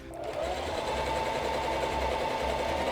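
A sewing machine stitches a seam in a rapid, steady mechanical whir heard up close, running continuously for a few seconds with no talk over it.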